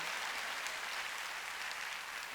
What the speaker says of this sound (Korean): 깨달은 사람 박수야 이게.